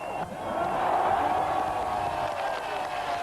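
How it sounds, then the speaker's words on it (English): A large crowd at the Berlin Wall in 1989 shouts and cheers as one sustained, excited roar from a distance, with a voice speaking over it. "Watching from West Berlin as they've done for several hours, the crowd shout ecstatically"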